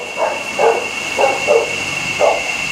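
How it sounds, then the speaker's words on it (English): Several pet dogs bark excitedly at the front of a house, five or so muffled barks in an uneven rhythm. A steady high electronic whine and room noise sit under them. "Sorry, my dogs are going mental up front."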